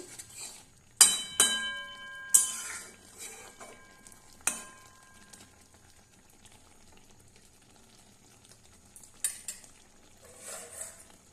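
A metal spoon stirs fried shrimp curry with brinjal, potato and tomato in a cooking pot, giving several loud scraping clanks early, then quieter stirring and a soft sizzle, with a few more clinks near the end; no talking.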